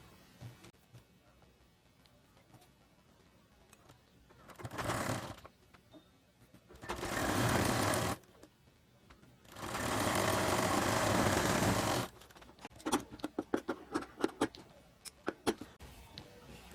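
A sewing machine stitching a baby shirt runs in three short, loud bursts of whirring separated by pauses, followed by a quick string of sharp ticking taps, with no talk.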